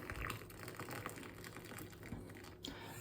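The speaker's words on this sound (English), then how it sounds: "when we put the water into the cup, we don't burn the tea" Water poured into a cup of tea with milk, a steady near gushing fill running for the whole stretch with a slight splashing texture, no voices.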